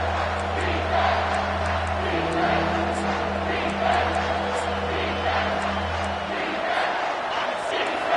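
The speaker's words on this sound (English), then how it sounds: "the crowd coming to life here, trying to help this defense down in the red zone" A football stadium crowd roars as the defense plays down in the red zone, a broad sustained swell of cheering and whoops that fades near the end.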